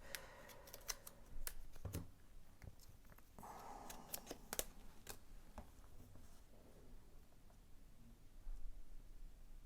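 Scissors snip through paper in a series of quick, crisp cuts, faint and close, with soft rustling between the snips.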